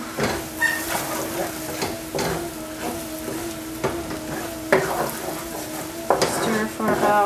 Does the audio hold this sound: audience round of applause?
no